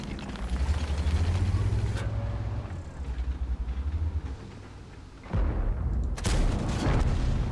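A tank cannon fires in World of Tanks and an explosion destroys an enemy tank, heavy booming blasts rumbling through the whole stretch with a sharp loud crack near the end.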